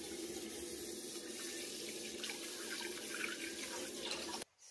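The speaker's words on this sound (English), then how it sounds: "Now I've filled the pan with water." A tap runs steadily, filling a pan with water for boiling pasta, a constant close rushing splash that cuts off abruptly near the end.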